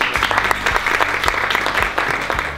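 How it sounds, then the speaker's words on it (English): Applause for graduates of a professional development program at a first-cohort graduation ceremony, a steady dense patter of many hands clapping indoors, close and fairly loud, with no talk over it. "So let's give you a round of applause."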